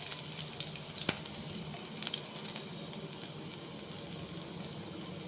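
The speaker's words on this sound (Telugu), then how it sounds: "ఆయిల్ వేడిన తర్వాత అందులో మనం చాప్ చేసుకున్న వెల్లుల్లి వేసుకుందాం." Chopped garlic frying in hot oil in a pan, a faint continuous sizzle with a few soft clicks and stirring scrapes, heard alone.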